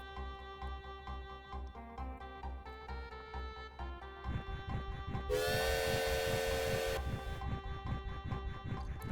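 A train pulls into a station in the Shining Force III video game, with mechanical chugging building under a melodic background tune before a loud, sustained steam whistle blasts for about two seconds.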